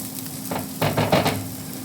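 Onions frying in a pan for a rustic corned beef hash, a low steady sizzle with a few brief stirring scrapes rising near the end.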